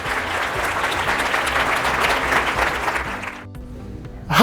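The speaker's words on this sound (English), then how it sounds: "go ahead and give me a big round of applause for Kantis Simmons." Audience at an inspirational school talk applauds a speaker, producing a steady, loud wash of clapping that continues for several seconds before thinning out near the end.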